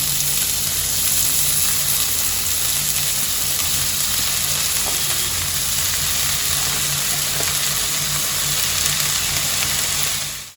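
Spring onion and garlic greens tipped into a pan of onion and green chili that has been frying for a few minutes, giving a steady, fairly loud sizzle that holds evenly throughout with no one talking.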